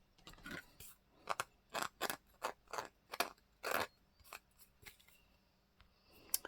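Scissors snip through paper bag pieces for a journal in a quick series of about a dozen crisp, close cuts, some short and some drawn out, with quiet pauses between them.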